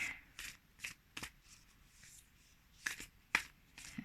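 A 50-card Nature's Whispers oracle deck being shuffled by hand, giving soft close riffles and card slaps in irregular bursts, quiet and without talk.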